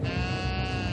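Sheep bleat steadily and fairly loud in a flock guarded by Anatolian shepherd dogs, a dense continuous chorus with no break throughout.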